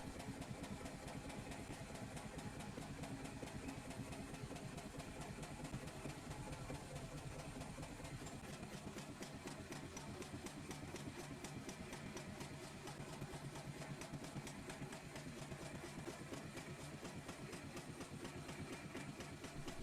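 A preserved early 20th-century marine hot bulb engine aboard the Anna Elise runs continuously at low RPM, a loud dense mechanical drone with a fast steady pulsing beat and no talk.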